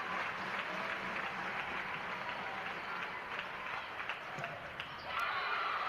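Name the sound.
volleyball crowd cheering at set point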